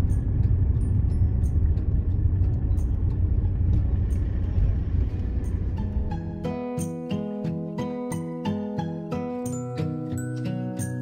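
Car travelling along a highway at night, a broad low rumble of road and engine noise for about six seconds before music with a steady plucked rhythm takes over for the rest.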